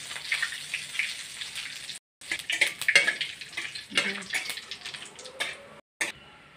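Asafoetida, two split dried red chillies and a bay leaf dropped into hot oil, giving a steady close sizzle and crackle that breaks off briefly twice.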